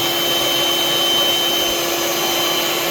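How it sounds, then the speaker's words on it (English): A Ryobi 18-volt handheld vacuum runs steadily, sucking up dust while a bathroom exhaust fan is being cleaned. Its loud, close, constant whine holds without a break, and no one speaks. "He's got the little Ryobi 18-volt vacuum."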